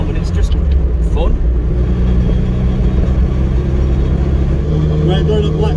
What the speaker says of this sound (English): We're going up Blackstone Edge in fifth gear, and so far we're only doing about 40